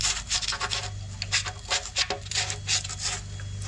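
A screwdriver works at the anode rod fitting on top of a Rheem water heater tank, giving close, repeated scraping and rubbing strokes in an uneven rhythm with a few sharper clicks, no talk.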